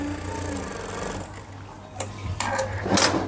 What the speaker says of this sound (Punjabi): ਉਰੇ ਆਪਾਂ ਨੇ ਆਸਣ ਕੋਲ ਨੀਚੇ ਡਬਲ ਸਲਾਈ ਕਰ ਦੇਣੀ ਆ